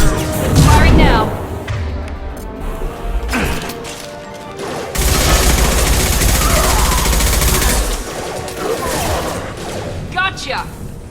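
Gunfire in the video game Mass Effect 2: bursts of shots and heavy impacts, loud and close, with a long sustained barrage in the middle and game voices talking over the action.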